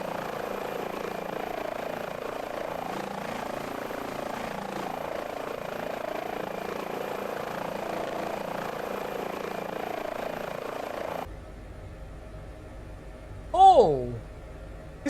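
An H145 helicopter in flight on a Swiss Helimed mission, a steady droning rotor and engine hum for about eleven seconds that then cuts away, followed by a brief rising tonal chirp.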